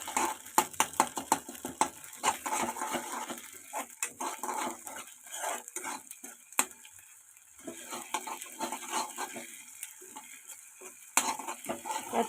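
Ginger-garlic paste is stirred into fried onions in a pan while making egg rice, with a series of quick, scraping spoon clicks and taps over a faint sizzle, close and fairly quiet.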